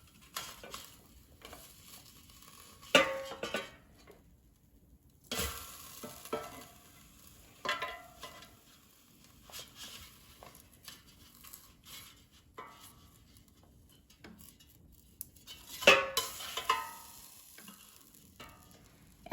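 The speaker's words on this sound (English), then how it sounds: "let's take out the air fryer basket and flip the tilapia so it cooks more evenly" Opening an air fryer to flip tilapia fillets in the basket, with scattered soft clicks, scrapes and clatter of the basket, sharper knocks near the start and end, and a faint fan hum between.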